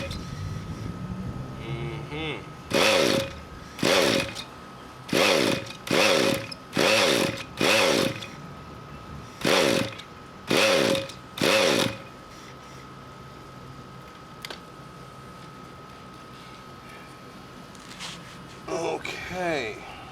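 A gas engine on a Century Radikal G20 RC helicopter is cranked up in a series of short, loud bursts, about nine sharp revs with pauses between, near and close, followed by quieter idling.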